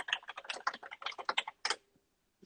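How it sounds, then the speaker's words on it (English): Fingers type on a clicky computer keyboard: a quick, close, irregular run of crisp key clicks for about a second and a half, one final cluster, then silence. "We're going to have a little bit of a typing interlude"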